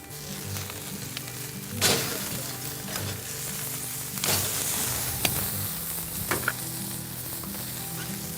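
Bone-in ribeye steaks browning over a wood fire on a Gaucho grill, a steady close sizzle with crackles and bursts as the meat is moved, with a low fire hum beneath and no talking.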